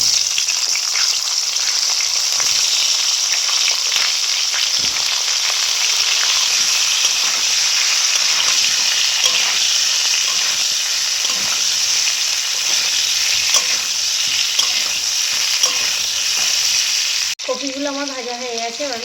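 Cauliflower fries in a pan of oil with turmeric and salt, giving a loud, continuous crackling sizzle up close for a long stretch, and a voice speaks briefly at the end.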